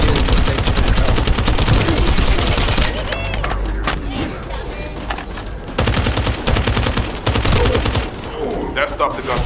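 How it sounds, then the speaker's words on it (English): Gunfire in the video game The First Descendant: rapid bursts of automatic fire and shots, loud and dense, mixed with other game sounds and occasional voices. "That stopped the gunfire."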